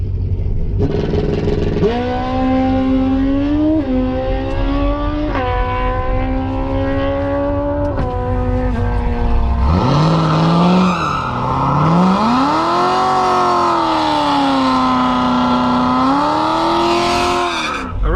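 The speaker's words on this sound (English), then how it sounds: "we're gonna run the Z06 again." A built Corvette Z06 of about 900 horsepower roars loudly through a drag race, the engine climbing through several rising gear pulls, then a second deeper, louder surge of revving that swells and falls near the end.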